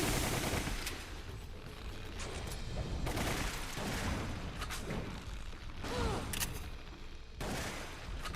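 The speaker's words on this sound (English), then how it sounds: "you really need to use the machine gun or else you are screwed" Machine gun fire in a video game, dense bursts of rapid shots with booms and mechanical clatter, continuous and loud throughout.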